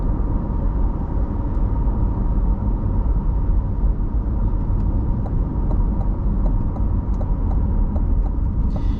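A 2021 Chevrolet Corvette Stingray 1LT Z51 with magnetic ride control cruises along a road, a loud, steady low engine drone and tire roar from inside the cabin, with light thumps over bumps and no talking.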